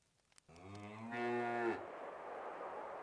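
A single cow in the strategy game Stronghold lets out a long, clear moo that rises and then cuts off, followed by a soft ambient hiss.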